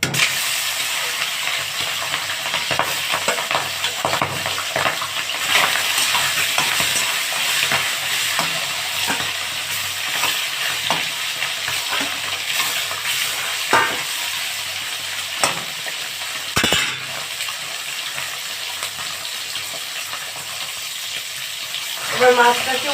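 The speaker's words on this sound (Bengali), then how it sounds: "তেল দিয়ে মাছটাকে ভেজে নেব।" Singhi fish sizzles steadily in hot oil in a kadai, a loud continuous frying hiss with occasional stirring clatter and spatter throughout, with no talking.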